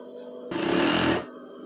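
An electric sewing machine stitches a petticoat seam in a single short, steady whirring burst of under a second, fairly close and loud, with no talk during it.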